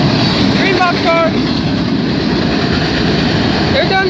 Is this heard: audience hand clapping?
no